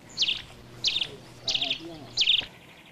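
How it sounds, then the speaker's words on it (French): Birds in trees at a campsite chirp in four short, bright calls spaced at a steady rhythm, fairly close and clear over a soft outdoor hum with faint low murmuring. "Avec les oiseaux."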